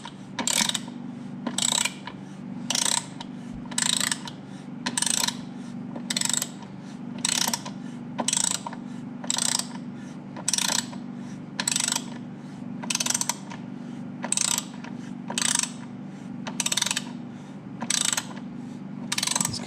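Steady ratcheting as a wrench tightens bolts on an aluminum A-arm guard being fitted to a Can-Am Renegade ATV, close and alone, a regular click about every second over a low constant hum.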